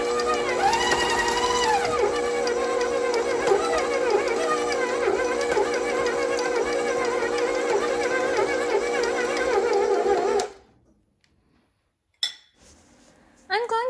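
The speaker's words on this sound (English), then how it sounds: "I'm going to mix these ingredients together a little bit longer." A stand mixer blends peanut butter and oat dog cookie dough, a steady loud motor whir with a rhythmic churning pulse for about ten seconds before it stops, followed by brief faint clinks and handling noises.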